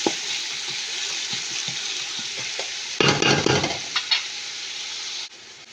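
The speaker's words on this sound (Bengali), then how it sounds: "এখানে এখন তেলের মধ্যে পেঁয়াজ দিয়ে দিব।" Onions frying in hot oil in a pan, with a steady crackling sizzle throughout and a louder burst of stirring and scraping in the middle, as for a spiced Arabic chicken dish.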